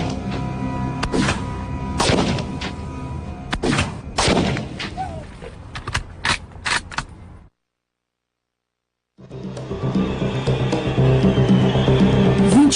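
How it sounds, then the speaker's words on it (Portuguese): A Mannlicher Carcano rifle is test-fired at fixed targets, giving several sharp, loud cracks spaced irregularly, followed by a gap of silence and then a steady mechanical rumble. "Michael testa a Mannlicher Carcano em alguns alvos fixos"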